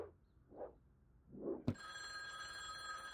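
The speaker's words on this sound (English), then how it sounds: "Oh, phone's ringing." In the video game Furniture Assembler Simulator, a telephone rings in soft, repeated bursts, then a sharp click gives way to a steady electronic tone.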